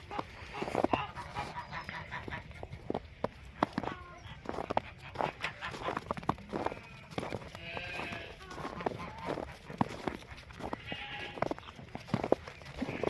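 Purebred Dutch and Alpine goats and kids bleat repeatedly in a pen, their cries mixed with shuffling hooves and movement, while people talk nearby.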